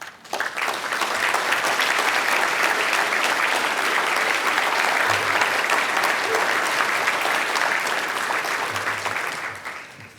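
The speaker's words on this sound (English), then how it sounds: "all stand in a big round of applause for everyone" A standing audience gives a long round of applause at a construction industry award presentation, dense clapping swelling in quickly, holding loud and steady for about nine seconds, then tapering off.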